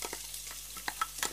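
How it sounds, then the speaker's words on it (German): Onion frying in hot olive oil in a pan, a soft steady sizzle with a few small crackles and pops, close and fairly quiet, no talking. "Nun erhitzt Olivenöl in der Pfanne und gebt die Zwiebel in das heiße Öl."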